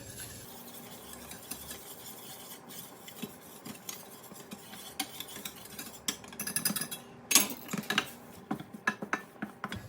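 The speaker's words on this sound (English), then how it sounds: "In goes our flour. And we're going to whisk this all together." A whisk stirs butter and flour together in a pan to make a roux, giving soft scraping and clinking against the metal that grows busier and louder toward the end, with no voices.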